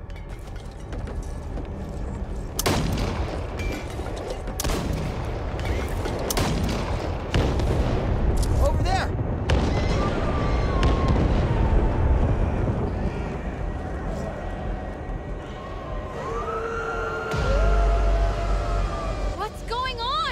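Repeated gunshots and heavy booming blasts from a Back 4 Blood zombie shooter game, irregular bursts across the whole stretch over low rumble, with voices shouting now and then.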